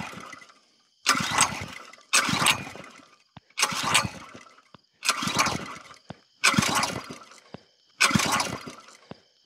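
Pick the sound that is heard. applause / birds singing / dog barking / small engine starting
small engine starting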